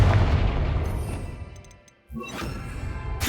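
A Confringo fire spell in Hogwarts Legacy bursts with a loud booming blast that rumbles and fades over a couple of seconds, followed by a second sharp explosive hit.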